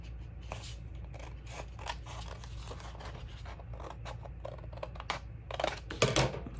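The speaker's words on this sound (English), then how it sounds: "gonna trim off these little pieces here with my scissors" Scissors trimming small pieces off a sheet of paper for a junk journal pocket: a run of quick, close, crisp snips, with a louder cluster of cuts near the end.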